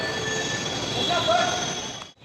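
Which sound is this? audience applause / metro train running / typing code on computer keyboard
metro train running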